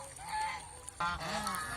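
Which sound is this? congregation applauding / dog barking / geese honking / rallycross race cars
geese honking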